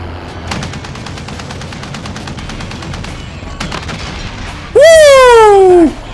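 Gunfire in the video game Warzone comes as rapid, continuous automatic bursts of loud cracking shots, followed by a sudden, blaring vehicle horn held for about a second.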